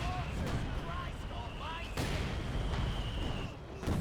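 Tank cannon fire striking Panther tanks in a Company of Heroes 2 battle, with heavy booms and impacts rumbling through dense battle noise and a sharp hit near the two-second mark; voices are heard over the top.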